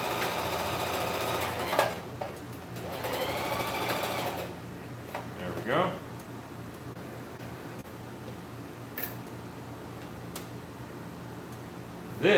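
Sewing machine running steadily while stitching fur for a mask hood, a close continuous mechanical whir with brief pauses and faint background noise, with some speech-like sound mixed in.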